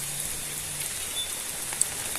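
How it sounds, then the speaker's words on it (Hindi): Steady rain falls outdoors at a jungle resort in Kanha Tiger Reserve, a continuous hissing patter with one sharper drip standing out near the end and no voices. "बारिश हो रही है"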